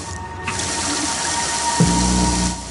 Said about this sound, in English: I'm actually healing by drinking at the water fountain